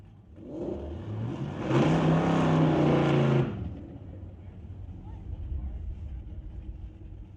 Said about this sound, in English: Mustang racing a little Chevy S10 Blazer.